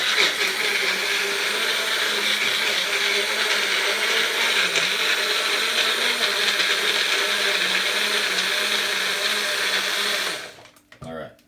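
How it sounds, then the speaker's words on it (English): A small blender whirs continuously for about ten seconds as it blends a cucumber drink, a loud steady motor drone that cuts off abruptly near the end. "let's blend this and make a little bit of a noise"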